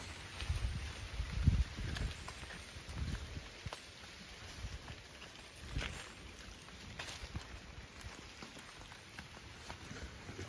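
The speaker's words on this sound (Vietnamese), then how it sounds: "Mưa tới rồi." Rain falls steadily outdoors in a jackfruit-cutting setting, a soft broadband hiss with gusty wind rumble and faint scattered drops, no talk.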